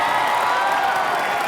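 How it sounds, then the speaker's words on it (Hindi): Studio audience at a comedy show breaking into steady, loud applause and cheering, a dense continuous roar of clapping with scattered whoops across the whole moment. "ठोको ताली।"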